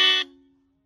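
A single short, loud motorcycle horn honk on a modified Hero Splendor sounds once, then cuts off, leaving a brief fading hum.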